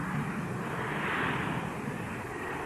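A propeller airplane engine droning steadily in flight, a continuous broadband roar that holds at an even level throughout with no voices.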